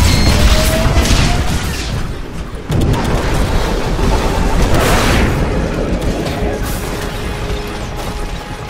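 Titan ejection in the Titanfall game's Frontier Defense mode: loud mechanical clanks and ratcheting bursts, then heavy booming blasts that roll on as dense, continuous battle noise.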